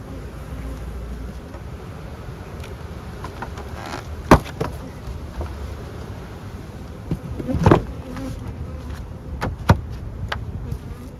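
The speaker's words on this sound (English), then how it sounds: "So hive number 3 was a bit of a surprise. They were buzzing." A strong honeybee colony buzzing inside an open beehive, a steady close drone that holds throughout, with a few brief louder knocks and bumps rising over it.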